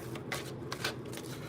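Tarot cards being shuffled up close, a few quick riffling bursts in a row with soft rustling between them.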